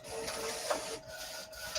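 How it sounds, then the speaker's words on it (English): A craft printer printing nearby, a short raspy, rubbing mechanical whir with a couple of faint clicks, steady and alone for under two seconds. "I'm waiting for the printer to print."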